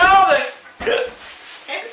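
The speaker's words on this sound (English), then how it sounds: "No, it's just a hiccup." A person hiccups during a hot sauce challenge, with a sharp voiced hiccup at the start and two shorter, quieter hiccup-like bursts spaced apart, in a close, dry setting.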